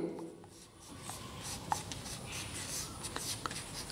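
Pen writing notes by hand on paper, steady scratchy strokes with small taps, close and fairly quiet, with no talk.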